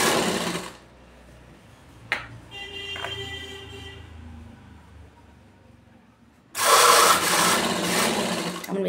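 Domestic sewing machine stitching a cotton nightie, a loud whirring run at the start, then a quieter stretch with faint clicks and a hum, before a second long, loud burst of stitching closes the clip.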